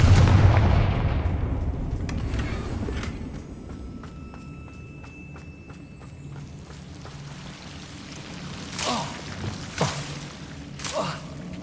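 A Confringo fire spell blast in the video game Hogwarts Legacy opens with a heavy low boom that decays into a crackling, pattering tail, followed by a few softer bursts later on.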